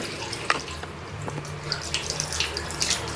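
Water runs from a tap while makeup brushes are washed: a continuous close splashing stream with irregular drips and small spatters as the bristles are worked under it.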